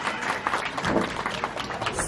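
A safari park show audience in Ontario claps for a trained bird's whistling: a short, dense patter of applause from a crowd, steady and moderately loud throughout.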